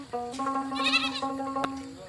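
A goat bleats in a long, wavering, nasal cry held for about two seconds, close and clear with no talking over it.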